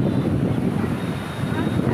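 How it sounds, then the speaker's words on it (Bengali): Ocean waves at Digha beach among large rocks, a steady loud rush of surf blended with heavy wind buffeting the microphone, continuous and close. "এই হলো দীঘার ঢেউ।"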